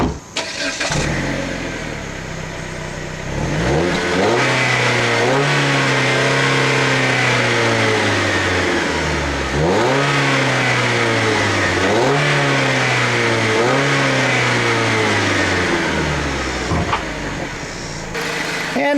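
Chrysler 2.4-liter four-cylinder engine in a 2012 Dodge Avenger SXT starts up and then revs repeatedly, each rise and fall in pitch distinct, loud and close, before returning to idle.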